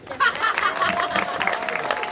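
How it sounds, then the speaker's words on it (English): A crowd claps in steady applause, dense and fairly close, with a few scattered voices and light laughter mixed in. "let's give us all ourselves a round of applause"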